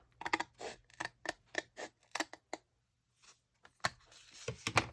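Scissors snip repeatedly through the paper edges of a desk calendar, close and crisp, in quick bursts of sharp cuts separated by a brief pause before more snipping resumes.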